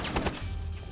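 Gunfire in the Rainbow Six video game: a quick burst of a few sharp shots at close range, followed by a brief low rumble.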